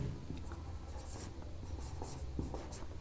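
Pen scratching across paper while a simple interest formula is written out by hand, steady scribbling strokes with brief pauses, close and fairly quiet, no voices.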